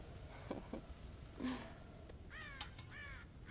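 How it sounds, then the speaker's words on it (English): Crows caw in Red Dead Redemption, a scatter of several harsh calls at moderate distance over a low ambient hum, the last few coming in a quick rising series. "God damn crows!"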